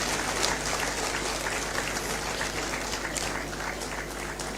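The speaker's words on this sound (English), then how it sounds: "he deserves applause of all and sundry" Audience applause at a formal anniversary launch event of a Supreme Court, steady, continuous clapping from a large crowd, fairly distant and soft.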